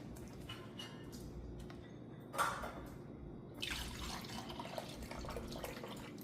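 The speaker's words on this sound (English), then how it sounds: "So now I'm going to add some more milk." Half and half pours into a yogurt mixture as a soft liquid trickle and splash, faint and close, starting partway through and running steadily to the end.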